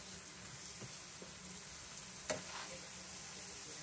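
Raw turmeric curry frying in a pan gives a faint, steady sizzle with a few soft utensil taps and one sharper clink partway through.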